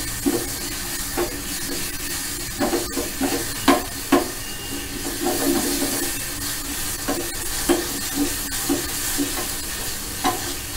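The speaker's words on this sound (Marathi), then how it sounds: "आधी आपण आलं लसूणच्या पेस्टचा तडका करून घेऊ" Ginger garlic paste sizzles in hot oil as a tadka for oats Manchurian, a steady frying hiss close up with intermittent stirring scrapes and clicks of a spoon in the pan.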